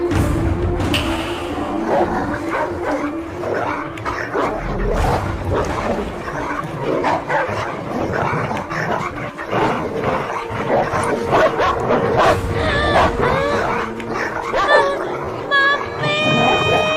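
Dogs bark and yelp, set loose on a child in an outdoor chase, with repeated sharp barks in an agitated, uneven rhythm amid shouting voices and general commotion throughout.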